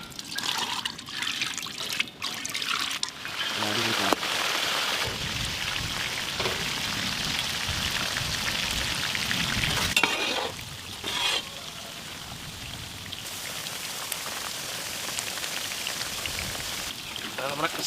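Tuna fish fries in pure sesame oil for a large batch of tuna pickle, with a loud, continuous crackling sizzle that holds steady close by throughout.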